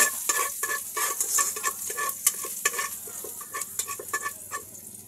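Spaghetti sauce being stirred in a pan, with a spoon scraping and knocking against the metal in quick irregular strokes over a steady sizzle, close and fairly loud, with no talking.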